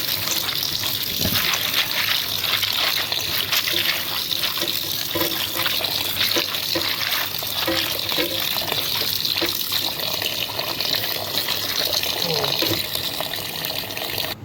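Tap water gushes steadily into a container to soak pasta in a home kitchen, a continuous close splashing rush that holds for the whole stretch, with a faint voice now and then beneath it.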